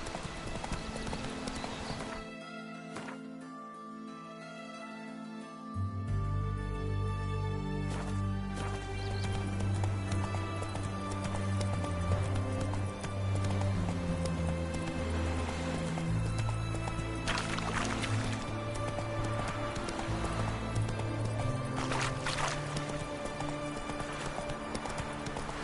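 Roach the horse gallops in The Witcher 3, a steady rhythmic clip-clop of hooves running close and loud over a continuous music and ambient bed, with an occasional whinny.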